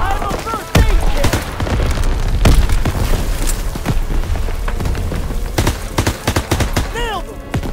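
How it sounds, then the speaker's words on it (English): Grenade explosions and gunfire in the Call of Duty WWII D-Day battle, several loud booms and sharp shots spread across a noisy combat scene, with shouted voices in between. "Lobbing a grenade!"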